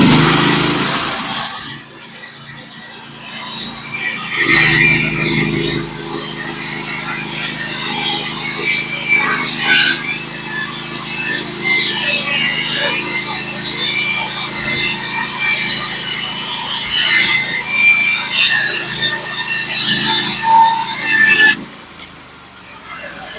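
A Norwood HD36v2 band sawmill runs at high speed through a pitch pine log, giving a steady broadband whine and hiss that lasts most of the stretch before easing near the end.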